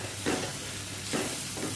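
Ginger garlic paste and spices sauté gently in oil over low heat in a pan. A soft, steady sizzle is broken by faint scraping stirs.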